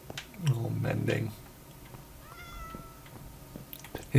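A cat meows in the video game My Wonderful World, a fairly loud, short meow near the start over a noisy background. A faint higher cry follows, and talking can be heard around it.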